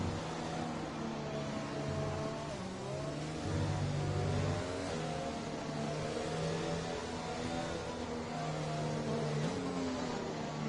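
Race car engine in the ECF1 Russia race, revving steadily while held behind the safety car, a continuous loud buzzing drone that shifts pitch through the gears, with no talk over it.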